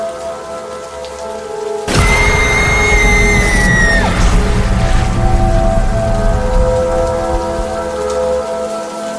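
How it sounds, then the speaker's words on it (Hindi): Heavy rain pours steadily in the Evil Nun horror game, with a loud rumbling burst of thunder and a drop in pitch around two seconds in, over sustained eerie tones through a night forest scene. "इतनी तेज बारिश और गरजते हुए बादलों के बीच रात गुजार पाना"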